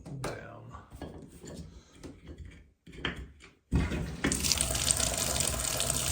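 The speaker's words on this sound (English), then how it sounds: "Now here's the shower." A household shower turns on, its running water building into a loud, steady spray after some quieter clattering, tied to a failed thermostatic mixing valve that leaves the water not hot enough.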